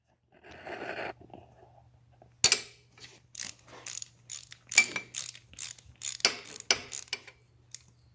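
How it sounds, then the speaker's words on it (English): A 9/16 wrench tightens bolts during a Cockshutt 30 tractor shift lever install, giving a series of crisp, close ratcheting clicks in uneven bursts over a low steady hum, with no talking. "9/16 wrench."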